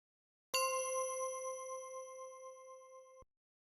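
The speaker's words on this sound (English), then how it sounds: "I had to add, you know, the clear morning bell" A single clear bell tone struck once in a piano trap beat, ringing bright and sustained for under three seconds with a gentle decay before cutting off cleanly, heard alone.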